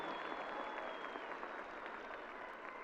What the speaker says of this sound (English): Please give them one more round of applause for their dedication to academics and extraordinary success.